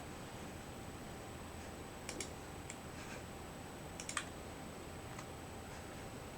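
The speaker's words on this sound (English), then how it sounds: "Typing the functions." Sparse, faint keystrokes on a computer keyboard: short clusters of clicks at irregular intervals over a steady low hiss, with long pauses between bursts.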